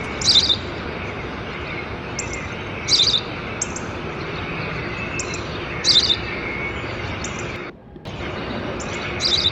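A house sparrow chirps outdoors in short, bright bursts repeated every one to three seconds over a steady hiss of ambient noise, with a brief drop to silence near the end.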